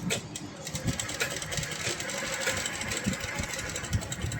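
A sewing machine runs continuously while stitching the edges of a piece of fabric, a close, steady mechanical whir with a rapid rhythmic clatter throughout, no pauses and no talking.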